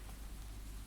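Steady rain falls on a city street at night, a dense, even hiss with no gaps and no voices, close and moderately loud throughout.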